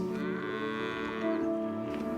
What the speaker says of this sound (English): Cows everywhere.